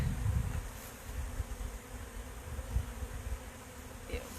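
Honey bee drones buzz close by near a hive, a steady insect hum with fluctuating intensity throughout and no voices.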